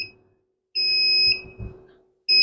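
Sharp high-pitched electronic beeps, one short, one long, then another starting, with faint tapping and handling noises in the quiet gaps.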